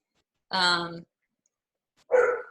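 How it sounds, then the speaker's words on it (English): A dog in the background barks twice with a long gap between, each bark short and fairly clear against silence, heard over a remote video call. "There's a dog in the background."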